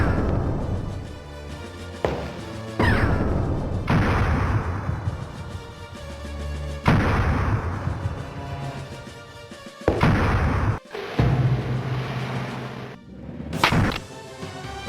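Loud rifle gunshots from the survival horror game Alone in the Dark, about eight sharp blasts at uneven intervals with booming tails, over a low rumbling backdrop and no talk.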